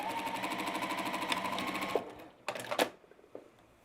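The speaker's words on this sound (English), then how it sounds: "I am back stitching at the start and end of every one of these seams." A sewing machine runs in a steady fast stitching burst while back stitching a quilt block seam for a Sand Dollar block, then stops, followed by a few short clicks and handling noises.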